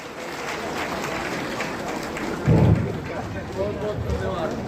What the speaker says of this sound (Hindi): कृपया सभी हमारे इन शिक्षक के लिए हमारे महोदय का जोरदार ताली के साथ स्वागत अभिनंदन करें